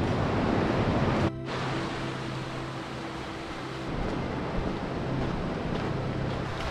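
The Cares river flowing nearby along the Ruta del Cares in the Picos de Europa, a steady broad rushing of water with a low hum partway through.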